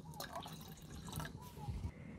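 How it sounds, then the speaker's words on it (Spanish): Water is poured into a cooking pot (cazuela) to boil tomatoes for a homemade salsa in a home kitchen, a soft liquid trickle and splash running steadily beneath a person talking. "Voy a poner en la cazuela para echarle agua para hervir los tomates"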